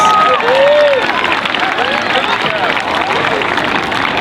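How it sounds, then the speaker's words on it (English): An audience at a school gathering applauds and cheers a student after a two-hour hike, the dense, steady clapping filling the whole stretch with a brief whistle-like tone near the start. "So give Alani a big round of applause."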